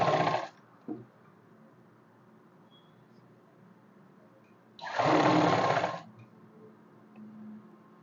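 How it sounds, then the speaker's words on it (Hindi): A sewing machine stitches a thick seam on a kurti in two bursts of rapid, buzzing mechanical chatter, a short run at the start and a longer one of about a second midway, with quiet handling between. "इस पर पूरा पे मोटी सिलाई लगा लेंगे"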